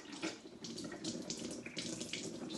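Water runs steadily from an electrolyzed water machine into a sink as a continuous, fairly loud close stream with splashing, and no talking.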